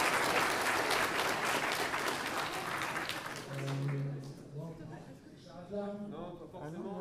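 An audience at a conference-debate breaks into loud, dense applause. The applause fades out after a few seconds and people begin talking.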